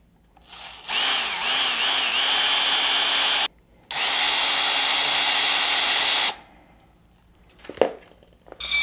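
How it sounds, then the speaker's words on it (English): A power drill bores through the aluminum of a Reptibreeze chameleon enclosure in two steady, loud bursts of a few seconds each, separated by a short pause and followed by faint handling clatter. "I just want to pierce the aluminum underneath."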